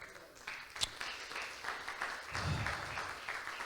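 A church congregation applauding during a sermon, heard as soft, diffuse clapping at a distance with one sharper clap standing out and a low murmur underneath.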